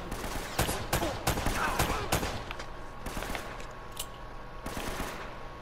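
Gunfire in the action game Uncharted: Drake's Fortune, a series of sharp shots and short bursts at irregular intervals, moderately close, with game ambience between them.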